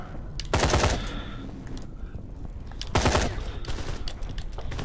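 Gunfire from the game Quantum Error comes in loud bursts of rapid automatic shots, two heavy volleys with scattered single cracks between them and no talking.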